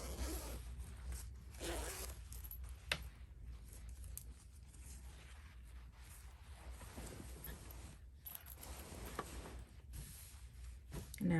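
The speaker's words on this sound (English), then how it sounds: "I'm gonna reach in and unzip the dress" A zipper on a bridesmaid dress is worked open, with soft rasping zip strokes and fabric rustles scattered across a quiet, close-up stretch.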